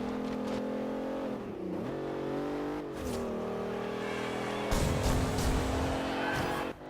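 A race car in Forza Horizon 2 revs hard, its engine note climbing and dropping through gear changes, with tires squealing and skidding on the track, loud and close throughout.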